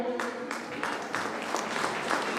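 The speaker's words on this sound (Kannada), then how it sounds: "ಇದಕ್ಕೆ ಚಪ್ಪಾಳೆ ಬರಬೇಕು" An audience at a school alumni teacher-felicitation gathering for the 2002-2003 batch claps throughout, a loud, dense burst of applause with a few stronger surges and a faint tonal sound underneath at the start.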